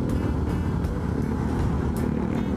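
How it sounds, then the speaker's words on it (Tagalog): Motorcycles squeeze through congested night traffic, a continuous low engine rumble mixed with car noise, fairly loud and steady with no clear pauses. "singit ng singit yung mga motor"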